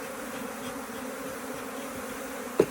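Honeybees buzz in an opened beehive, a soft, steady droning swarm hum close by, with a brief sharp knock just before the end.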